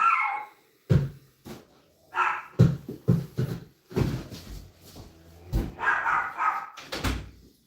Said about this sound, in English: The heck are the dogs doing?